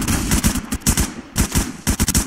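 Bursts of automatic gunfire in the shooter game Phantom Forces crackle loud and close, in rapid clustered volleys with brief gaps between them.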